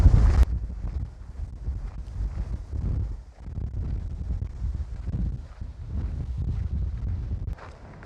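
Strong wind sweeps over exposed rocky desert terrain on the Arizona Trail, a steady low rumbling roar against the microphone with surging gusts that dip briefly and swell again.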